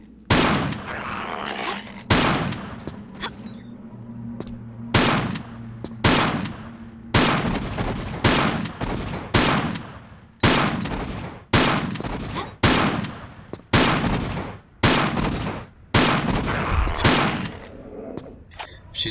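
Gunfire in the Tomb Raider IV: The Last Revelation video game, set in Alexandria's lost library: sharp, loud single pistol shots crack one after another in an uneven rhythm, each with a short decaying tail, about twenty in all.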